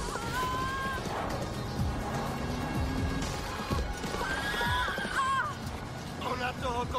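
A horse whinnies repeatedly while hooves clop and scuffle on the ground, with other movement and background clatter throughout, fairly near.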